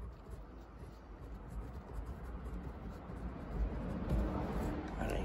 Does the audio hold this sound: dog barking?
no